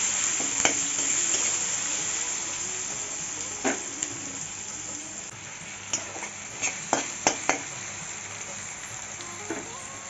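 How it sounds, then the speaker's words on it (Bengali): Chopped onion fries in a pan, giving a low, steady sizzle with a few sharp clicks of a utensil stirring against the metal, heard close and fairly quiet with no talk. "পেঁয়াজ কুচিটা দিয়ে একটু ভালো করে নাড়িয়ে নাড়িয়ে ভেজে নেব।"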